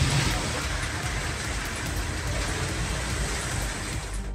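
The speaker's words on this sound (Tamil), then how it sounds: "பெய்த மழையால் சாலைகளில் மழைநீர் பெருக்கெடுத்து ஓடியது" Heavy cyclone rain pours down steadily across Tamil Nadu roads, a dense, even hiss with low rumbling beneath it that holds from start to finish.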